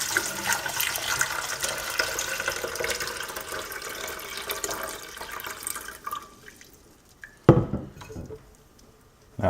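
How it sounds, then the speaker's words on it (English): Water carrying live Daphnia pours steadily through a coarse mesh net nested inside a fine brine shrimp net, a continuous rushing splash that tapers off, then a few drips and a final slosh. "by placing a coarse mesh net inside of a fine mesh net, such as a brine shrimp net, and just pour straight through both of them."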